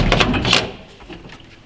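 A 1986 Chevrolet S10 pickup door slams shut with a solid metallic thud, followed by a short rattle and quiet settling sounds.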